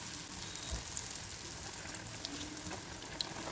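Borelu batter sizzling and frying in hot oil, a steady dense crackle with a few brief louder pops, close and moderately quiet with no talking.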